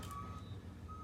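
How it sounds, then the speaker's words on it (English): Steady electronic beeping from a reversing vehicle, distant and fairly faint, over a low rumble of traffic or machinery. "have to excuse the beeping, that's a construction vehicle across the street."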